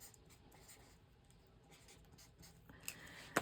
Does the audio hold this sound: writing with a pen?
yes